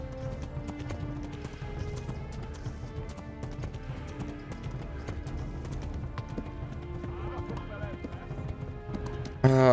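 Rapid hoofbeats of galloping horses in Kingdom Come: Deliverance clatter continuously during a chase, busy and layered, with a video-game soundtrack feel and an abrupt loud burst at the end.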